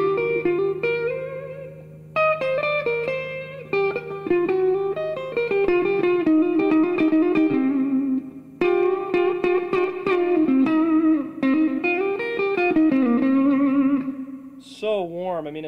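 Electric guitar played through a Mr. Springgy spring reverb pedal turned up high, ringing chords and single notes trailing into a long, warm wash of reverb, steady and close throughout with a brief pitch-bent flourish at the end.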